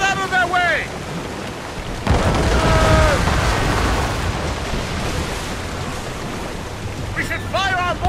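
A fire ship goes down during a naval battle in Assassin's Creed Rogue, heard as a loud, sustained roar of crashing and rumbling that swells around the middle, with shouting voices over it at the start and end.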